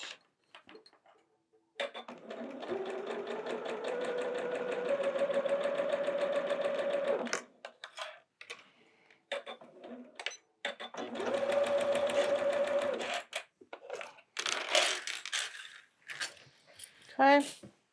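A sewing machine stitches a quilted snowman in two long motorized bursts, a steady whirring run that starts and stops, with clicks, handling noises and brief murmured talk in the pauses between runs.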